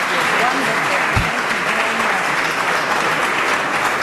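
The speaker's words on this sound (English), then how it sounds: "A round of applause." A panel-discussion audience applauds the panelists in a loud, dense, continuous wash of clapping that holds steady throughout, with a brief low thump partway through and no clear talk.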